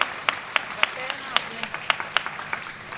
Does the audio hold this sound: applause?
yes